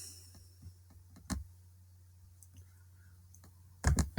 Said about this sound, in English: I can click that on